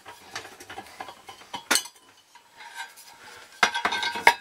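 Removal of the cap from a 12 volt barn porch light: a few sharp metallic clicks and clinks, close and fairly loud, separated by quiet gaps.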